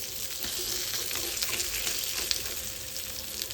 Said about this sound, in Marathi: मी मच्छी आता पलटी करत आहे